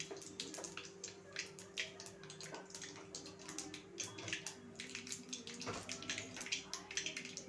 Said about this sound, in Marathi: जिरी मोहरी तडतडली